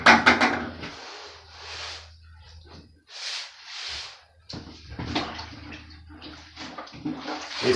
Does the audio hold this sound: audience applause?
no